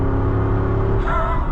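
The 2024 Jeep Wrangler Rubicon 392 Final Edition's V8 engine rumbles deep and loud from inside the cabin under hard acceleration, with the tone rising near the end.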